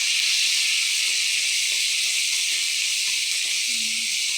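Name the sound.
tomatoes and curry leaves sizzling as they are sautéed in a pan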